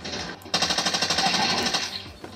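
Rapid automatic gunfire from a weapon in a PC shooter game, a steady string of about fifteen quick shots at an even rhythm, fairly close and loud, then trailing off into quieter game sounds.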